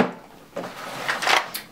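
A drawer in a makeup storage unit slides open, giving a short scraping, rattling wooden rush that builds to a louder clatter near the end, close by and heard alone.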